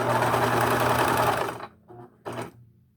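A sewing machine stitches the curved side of a cloth face mask, a loud close rapid whirring run that stops, then two short bursts of stitching.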